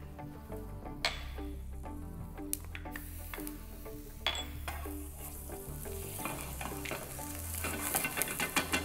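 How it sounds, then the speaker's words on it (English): Ginger and garlic sizzling in hot vegetable oil in a pan, a close, steady frying hiss with scattered clinks and stirring taps over a low hum, growing a little busier toward the end. "I'm starting with a little bit of vegetable oil in the pan. To that, I'm gonna add my ginger and garlic."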